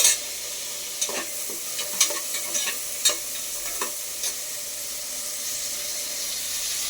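Large tomatoes sizzle steadily in a hot pan while a utensil scrapes and stirs with occasional sharp clicks, close and continuous with no talking.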